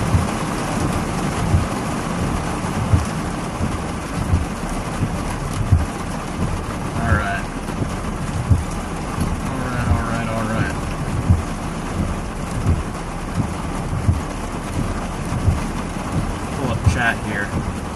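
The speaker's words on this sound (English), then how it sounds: "There's some more rain." Steady rain pours during a thunderstorm in southern Wisconsin, a dense continuous hiss with low rumbling and scattered patter, while a voice talks faintly underneath at times.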